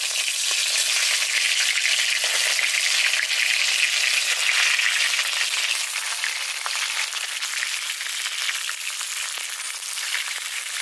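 Taro leaves for a traditional arbi leaf dish frying in hot oil, a steady bright sizzle with crackling pops that runs loud and unbroken for about eleven seconds, close up, with nobody talking.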